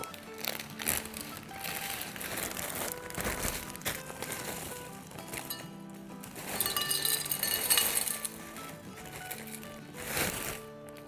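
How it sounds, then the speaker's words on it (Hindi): Ice cubes clink and rattle as they drop into a glass for a banana drink, with repeated close chinks and crunching knocks in uneven bursts. No one speaks. "और अब इसके बाद हम डालेंगे बर्फ़।"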